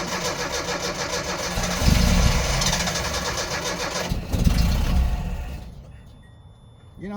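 The engine of a 1986 Nissan farm truck cranks in two loud surging bursts, the second catching briefly before dying away to near silence.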